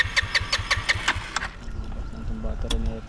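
A borrowed motorcycle refuses to start: a starter cranks in a quick rhythmic chug for over a second, then stops, leaving low mechanical hum and a voice talking nearby.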